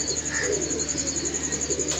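A pigeon coos steadily from close by on a rooftop, its soft throaty calls rolling on through continuous background noise.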